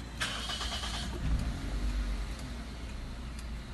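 A Toyota Wish engine cranks and fires up from its push-start button, fitted with a keyless smart alarm system, then settles into a steady low idle rumble close by.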